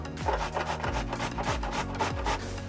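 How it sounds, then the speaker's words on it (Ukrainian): Rhythmic rasping strokes of a carrot being grated, repeating about every half second, close and steady with no talking. "я тим часом швиденько натираю морку"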